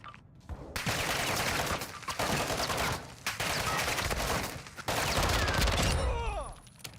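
Dense gunfire rattles through a Call of Duty DMZ match, with loud bursts of automatic weapons in long sustained volleys. Brief gaps break the shooting, and a faint voice is heard near the end.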